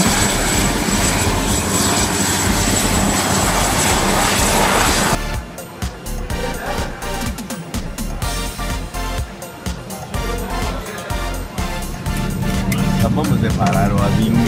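An airplane engine roars steadily and loudly throughout at Cabo Frio International Airport, shifting to a rougher, throbbing drone partway through, with no clear speech.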